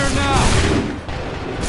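Soldiers fire a massed musket volley in Assassin's Creed III, a loud, close, booming burst at the start that decays into rumbling echoes.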